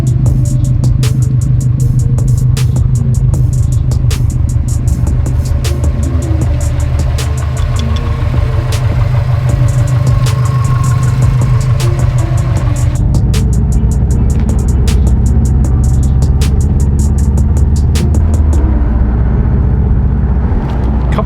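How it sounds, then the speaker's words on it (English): A rebuilt car engine, freshly repaired of a rod knock, idles steadily at close range with a loud, even mechanical drone and a slight change in tone partway through, with no voices. "now running again without a rod knock"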